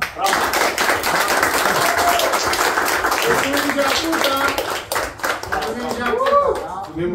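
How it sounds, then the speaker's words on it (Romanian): Crowd at a Hot Wheels collectors' convention clapping for a contest winner, steady scattered applause with voices talking over it throughout. "Hai să-l aplaudăm!"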